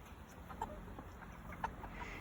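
Pasture-raised chickens cluck softly under a steady hiss of background noise, with two brief, distinct clucks standing out. There is no talk.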